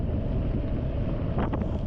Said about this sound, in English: experienced the full unfiltered wind of the Pacific Ocean